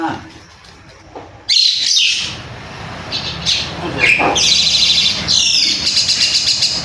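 A common myna chirping and squawking up close, loud shrill calls in several bursts after a quieter start, with some speech-like sounds mixed in.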